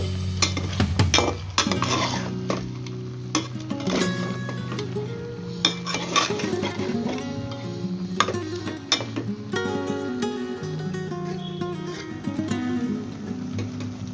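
Papaya fried with fish head is stirred in a pan, a spoon clinking and scraping against the metal repeatedly and close up for the whole stretch, with no talk.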